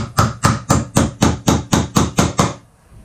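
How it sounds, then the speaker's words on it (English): Hammer driving a nail into the corner of a wooden planter box: ten loud, evenly spaced blows in quick rhythm, then silence, no voices. "you will take your nail and make sure you're nailing into your little corner piece"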